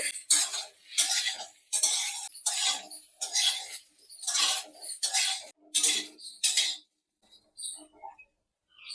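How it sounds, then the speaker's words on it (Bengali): Ridge gourd being stirred in a pan with a utensil, a run of repeated scraping and clattering strokes at close range, about ten bursts in quick rhythm that stop near the end, leaving faint scattered clinks. "এবার কেটে রাখা ঝিঙেগুলো দিয়ে দেব। ঝিঙেটা একটু 2 মিনিট নাড়াচাড়া করব।"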